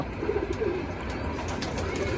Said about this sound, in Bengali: এখন কবুতর এভাবে ছাড়তে পারতেছি না, কারণ কবুতর অসুস্থ।